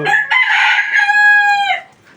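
A rooster crows once, loud and close, a drawn-out harmonic call lasting nearly two seconds, from a flock of laying hens that are feeding.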